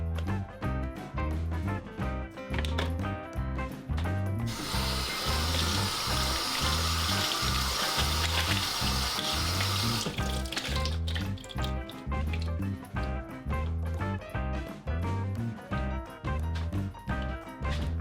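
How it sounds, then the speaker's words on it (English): Raspberries rinsed in a colander under a running kitchen tap: a steady gush of water for several seconds mid-clip, laid over continuous rhythmic background music that carries on before and after. "I'm going to give them a nice old rinse under the tap"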